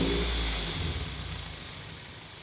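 A Toyota MR2 with 170,000 kilometres on it pulls away to start a drive, its engine a steady, fairly quiet hum that eases slightly as it gets under way, with no voices.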